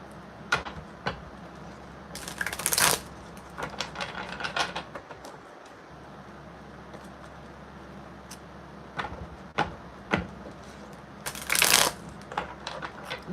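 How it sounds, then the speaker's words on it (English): Tarot cards being shuffled close up in several bursts, with crisp riffling runs and softer slaps and taps between them, no talking. "Y'all hear me shuffling these cards."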